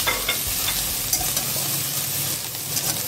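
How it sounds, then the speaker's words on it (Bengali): Crushed Loitta dried fish fries in a pan, a loud, close sizzle broken by scraping stirring strokes, continuous throughout with no speech. "শুটকি মাছগুলো দিয়ে দেবো"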